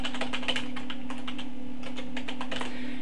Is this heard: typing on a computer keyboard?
yes